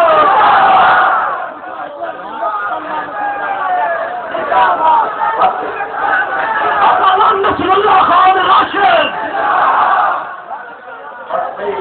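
A large crowd chants slogans at a religious-political rally, loud and continuous throughout, with a voice calling a name over the massed shouting.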